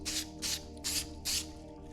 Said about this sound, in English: So I'm going to try some of this Mother's Back to Black. I'm going to spray it on there.